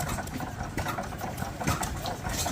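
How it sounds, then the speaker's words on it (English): An antique Foos stationary engine runs at an outdoor antique tractor show, a busy close chugging with rapid rhythmic knocks throughout. "Got the Foos engine."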